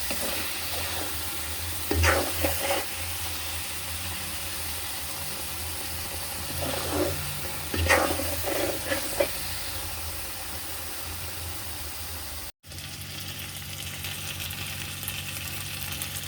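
Bitter gourd curry cooks in a pan with a soft steady sizzle, while a spoon scrapes and stirs in a few brief bursts, close and fairly quiet with no talking.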